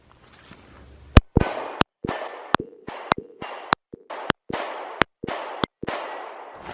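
A Sig Sauer P365 pistol fires about a dozen sharp, loud shots in an uneven string, each crack trailing a short echo, with brief pauses between groups.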